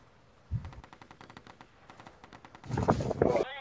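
Rapid bursts of video game gunfire in a team shooter match, a run of sharp repeated shots building into louder, denser firing toward the end, with voices talking over the action.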